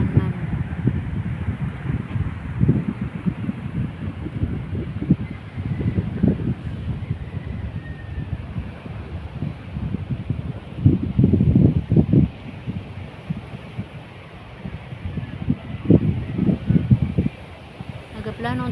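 Northeast monsoon wind blows across a sheltered coastal shore, gusting in repeated low rumbling bursts against the microphone, with a person talking over it.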